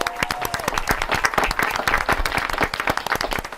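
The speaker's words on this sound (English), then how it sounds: "I would like everybody to give them a really big round of applause" Audience applause for a band on a TV show: dense, steady clapping from a crowd, loud and sustained throughout without pause.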